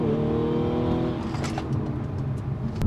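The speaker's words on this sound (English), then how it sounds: "let's try a launch and see what we can do. Oh, tires cannot take that." An Audi car launching from a standstill with its tires spinning, the engine revving loudly and steadily before the pitch shifts as it pulls away.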